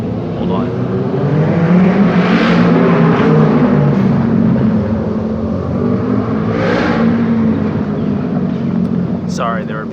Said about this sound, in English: Sorry, there are people on motorcycles.